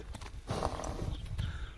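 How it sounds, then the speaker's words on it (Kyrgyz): A large Kyrgyz horse stands nearby, shifting its hooves with a few dull thuds and giving a brief snort. "Эми атты токтотуп туралы"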